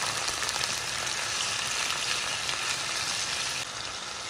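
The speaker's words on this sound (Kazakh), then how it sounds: "болгар бұрышын салып қуырамыз." Bell pepper stir-fries in a hot pan for a warm tripe and intestine salad, producing a loud, steady, unbroken sizzle that eases slightly near the end, with no talk.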